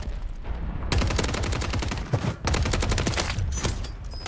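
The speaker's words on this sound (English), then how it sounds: "The hold my nuts is the best LMG in the game." Sustained bursts of LMG machine-gun fire in a video game on Rebirth Island, rapid rattling volleys with a short pause midway, loud and close with no talk.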